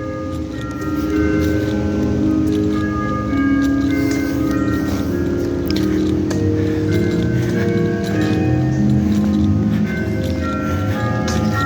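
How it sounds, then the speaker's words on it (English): Bells ring continuously with sustained overlapping tones, over a busy rhythmic clatter, loud and unbroken for the whole stretch. "We got almighty bells ringing. Y'all listen to that beautiful sound."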